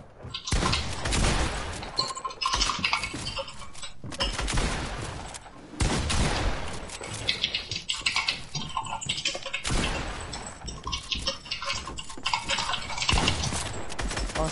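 Bursts of gunfire in the battle royale game Fortnite repeat in clusters of loud, rapid shots. They are separated by brief pauses and spread across the whole stretch, with no talk over them.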